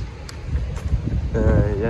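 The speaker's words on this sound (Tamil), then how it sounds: "நல்லா காற்றடிக்குது" Strong January wind buffets the microphone in low, rumbling gusts in Spain while a voice speaks over it.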